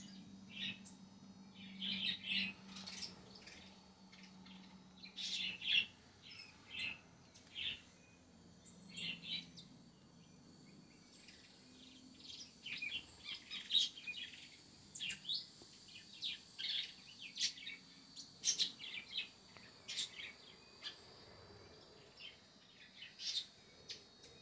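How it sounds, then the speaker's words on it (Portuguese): Small birds near their nest give repeated high chirps and short tweets, scattered irregularly across a quiet outdoor background at moderate distance, with a faint low hum early on. "filmar um pouco os outros passarinhos para nós ver se eles vão lá no ninho tratar"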